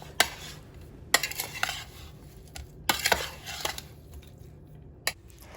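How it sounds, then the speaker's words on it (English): Seasoned snapper fish being mixed with salt and black pepper in a bowl, heard as a few sparse, close clinks and scrapes with quiet pauses between them. "we're just going to go ahead and give everything a very nice mix"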